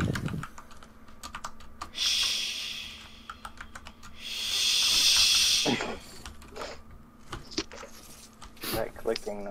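Computer keyboard keys click in quick irregular bursts during a Fortnite gaming session, close and sharp, with breathy gaps and a loud rushing noise from the game in between.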